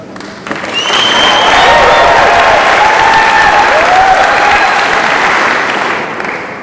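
A large audience applauds and cheers loudly for a lieutenant at a Salvation Army event, with a dense sustained roar of clapping, some whistles and shouts, and a slow fade at the end.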